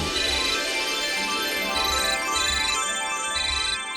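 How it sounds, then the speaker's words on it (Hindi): A phone ringtone plays indoors in a home, a bright electronic melody that repeats in short regular phrases for several seconds at a moderate level. "किसका फोन है?"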